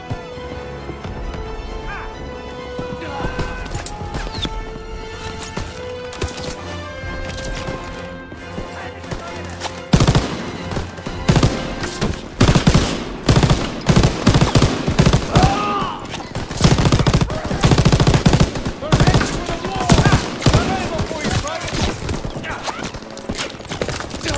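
Machine gun fire in the Call of Duty WWII D-Day battle, rapid loud bursts dense from the midpoint onward, mixed with other battle noise and shouted voices.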